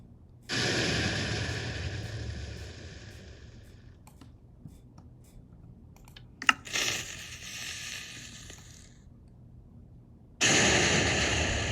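A house blown apart by a TNT cannon in Minecraft: loud blasts of crumbling rubble that cut in and stop abruptly, separated by quieter gaps with sharp clicks and one short crash.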